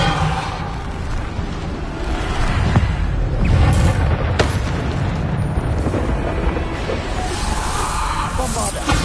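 Bombarda spell explosions in the video game Hogwarts Legacy, loud booming bursts with whooshing blasts amid continuous combat noise, one heavy burst standing out near the middle.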